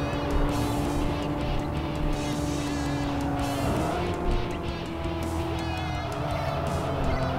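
A race car engine in the Tokyo Xtreme Racer 3 video game drones steadily and rises in pitch under acceleration, with a sustained near tone and no talk.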